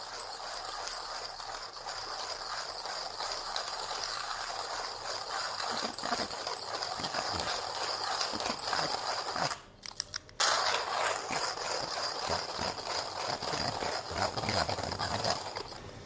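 A Timemore Chestnut C3s hand grinder crunches coffee beans set to a fine grind, a continuous close gritty grinding with steady rhythmic burr clicks, broken by one brief pause before resuming.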